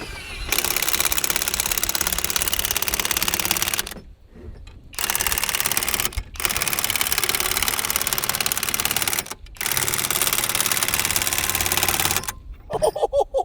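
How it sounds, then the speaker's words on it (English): Vises are cranked to compress the springs of a No. 15 steel bear trap, giving loud, dense mechanical ratcheting and grinding in three long runs separated by short pauses, with a few sharper clicks at the end. "And now I can just clamp these springs together and set my trap."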